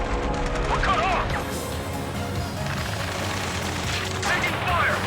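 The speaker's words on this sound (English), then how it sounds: "Taking fire! We're pinned down! Shoot back!" Heavy gunfire and explosions in the Ace Combat 7 video game, a dense, loud, continuous barrage of shots and blasts, with radio chatter and musical tones woven underneath.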